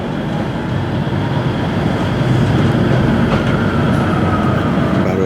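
A train rumbles steadily along the rails leaving Barrow-in-Furness on the Cumbrian coast line, a continuous loud roar with faint rhythmic clatter and a thin wheel squeal near the end.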